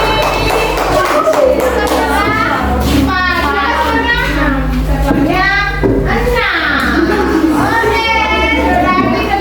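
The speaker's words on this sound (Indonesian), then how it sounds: "tepuk tangan untuk kelompok berapa ini?" Elementary school children clap for a group during a class activity, scattered claps mixing with lively children's voices and chatter throughout, loud and close.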